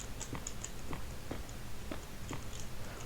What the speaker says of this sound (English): Nether quartz has also had a sound change